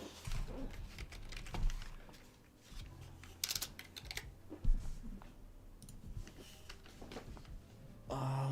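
Someone types on a computer keyboard in quick, uneven bursts of close clicking keys, with pauses between runs and faint background noise.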